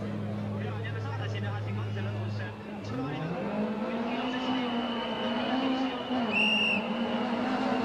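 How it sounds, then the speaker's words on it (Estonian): A Lada VFTS rally car's engine approaches on the Tartu Toomemäe city stage of Rally Estonia 2016, its steady drone giving way to a rising, revving pitch as it nears, with a commentator talking over it throughout. "Ja Laada häält on juba kuulda"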